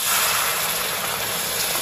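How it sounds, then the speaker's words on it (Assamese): Hot water hits a pan of frying mutton liver curry and sets off a loud, steady sizzling hiss that fills the whole moment with a constant bright crackle and no break. "ইয়াতে এতিয়া অকমান গরম পানি দিব লাগিব"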